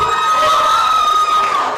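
Comedy show audience cheering and whooping at a Halloween stand-up set, a dense continuous crowd roar with some high shouts over the full stretch, with no talking on top.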